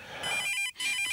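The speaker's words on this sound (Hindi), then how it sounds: "फोन बज रहा है" A home telephone rings in an electronic warble, two bursts separated by a brief gap, loud and close with no one talking over it.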